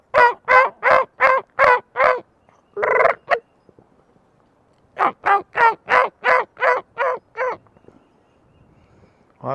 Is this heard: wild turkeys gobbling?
yes